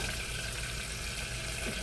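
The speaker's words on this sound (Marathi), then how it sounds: "तुम्हाला आवाज येतोय ना मोहरी तडतडल्याचा" Mustard seeds crackle and sizzle in hot oil for tempering, giving a dense, steady frying hiss that stays even and close throughout the short moment.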